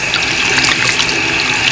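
Steady running water splashes continuously, close and fairly loud, with a makeup sponge squeezed under the flow to rinse out makeup. No voices.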